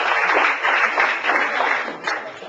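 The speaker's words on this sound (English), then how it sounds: "Let's have a big round of applause for Jeanette, everybody." Applause from a Maritime Idol audience greets Jeanette Landry, a weekly winning singer. Dense, even clapping carries on for a couple of seconds before fading slightly, with no speech over it.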